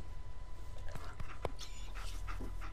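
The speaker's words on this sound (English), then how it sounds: "I got myself a cute dog" A dog in Fallout 4 panting and whimpering close by, soft breathy pants with a few faint whines over a low game ambience, while a voice speaks quietly.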